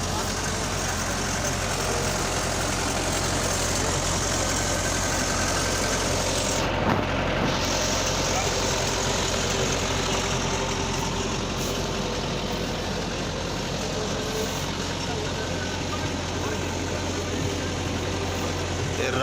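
A farm machine's engine runs outdoors in a steady, loud, unbroken drone, a constant low hum that holds throughout with no change in pace.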